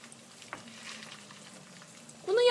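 Eggs frying sunny side up in butter give a faint, steady sizzle while melted butter is spooned over them with a wooden spoon, with a louder rising scrape or hiss at the very end.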